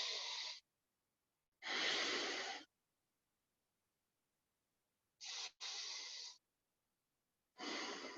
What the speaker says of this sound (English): taking 3 deep breaths through the nose